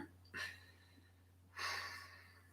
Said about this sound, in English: do another massive great yawn